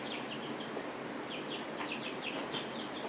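Chickens in a farm brooder give soft, scattered chirps and clucks throughout, lightly overlapping against a steady background hiss, fairly faint and without anyone talking.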